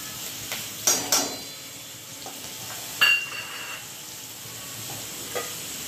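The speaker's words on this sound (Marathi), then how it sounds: "हिरव्या मिरच्या तळून झालेल्या आहेत चांगल्या" Green chillies frying in hot oil in a home kitchen, heard as a steady soft sizzle with a few sharp spatters and clinks of a utensil against the pan, close and without talk.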